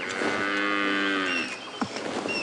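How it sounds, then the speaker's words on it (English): An old African buffalo cow lows once in a long, deep, drawn-out moo, close and loud, outdoors on a morning safari drive in a South African game reserve, followed by a soft thud. "there's going to be a very happy buffalo, an old cow coming towards us now"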